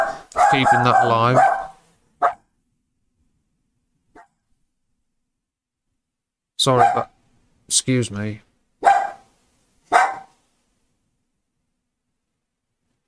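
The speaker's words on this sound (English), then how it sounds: "That was the dog. He's heard something that I didn't." A dog barks indoors, several short sharp barks in two bursts, fairly close, between stretches of someone talking.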